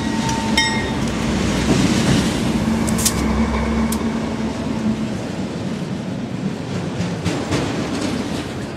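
Freight train Q214, a CSX train of empty auto racks from Tampa to Cincinnati on the Fitzgerald Sub, rumbles steadily past at close range with rail clatter, a few brief high squeals and an airy wash, alone with no talk.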